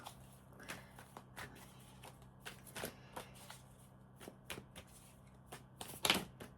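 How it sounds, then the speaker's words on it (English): Tarot cards being shuffled by hand, a series of crisp riffles and flicks in an irregular rhythm, close and fairly quiet, with a sharper snap of cards near the end. "we're going to do some shuffling here, Aries."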